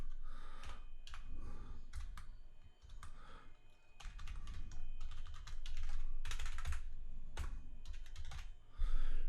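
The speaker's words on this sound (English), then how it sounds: "And I'm going to type in my regex pattern." Keys clack in quick irregular bursts on a computer keyboard as a regex pattern is entered, with short pauses between runs of strokes and no talking.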